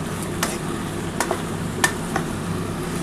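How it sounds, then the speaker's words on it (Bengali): A utensil stirs egg masala pasta in a pan, giving a few soft scraping clinks against a low steady hiss, faint and close with no talking. "এবার খুব ভালো করে একটু নাড়াচাড়া করে নেব"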